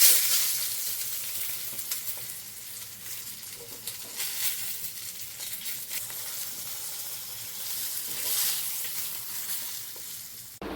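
Food sizzles steadily in a home kitchen while a festive bhog meal is cooked: khichuri, cauliflower curry and several fried dishes. A continuous, moderately loud frying hiss runs alone throughout, with gentle swells and no voices.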